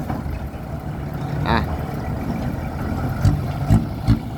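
A loud tractor engine rumbles steadily at close range with a few sharp clanks and knocks toward the end.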